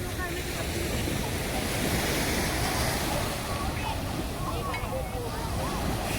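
Sea waves wash onto Miramar Beach as a steady, faint roar of surf mixed with wind buffeting the microphone, while a person talks over it.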